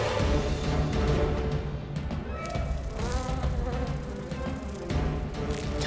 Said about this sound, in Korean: 꿀벌들도 방어에 나서지만 장수말벌이 억센턱으로 닥치는 대로 물어버립니다.